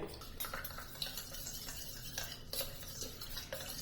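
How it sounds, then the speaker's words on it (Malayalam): Custard powder stirred into milk with a spoon in a bowl until smooth for a fruit custard sharbat: continuous scraping and light clinking of utensil against the dish, close and steady with no voices. "കാൽ കപ്പ് പാൽ ഒഴിക്കാം നന്നായിട്ടൊന്ന് മിക്സ് ചെയ്തെടുക്കുക ഒട്ടും കട്ടയും തരിയില്ലാതെ വേണം"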